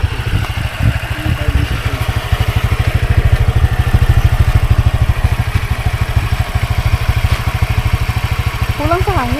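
A motorcycle engine idles close by with a rapid, steady low putter throughout, while people talk intermittently nearby at an outdoor washing spot.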